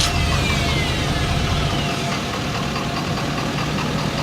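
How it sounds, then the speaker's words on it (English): A 2016 Ford F-350 pickup with a 6.7 liter turbo diesel engine running right after starting up, a loud, steady close-up diesel clatter and rumble holding an even idle throughout. "So now we're going to go ahead and turn the 2016 F-350 on."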